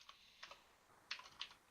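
Keys tapped on a computer keyboard as a terminal command is typed, short quiet bursts of clicks with pauses between them, close and soft, no voices.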